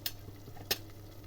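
Masala sautéing quietly in a pan, a faint sizzle under two brief scraping strokes of a spoon or spatula, close and soft.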